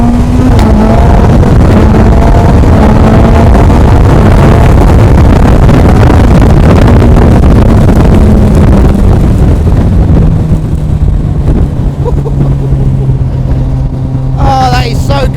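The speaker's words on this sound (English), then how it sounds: "Start the bike up." A Suzuki Hayabusa motorcycle with a flat-shifter runs loud and close under heavy wind noise, its engine note climbing through gears and then settling into steady motorway cruising, with a voice talking over it.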